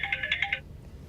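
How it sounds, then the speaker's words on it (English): A work phone rings with a rapid, warbling electronic trill of about five pulses, fairly close, then stops abruptly, leaving a faint background hum. "Work phone's going off."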